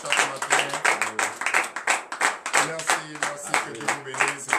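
A congregation at a morning prayer service claps in loud, rhythmic bursts, with voices singing or calling out over the clapping.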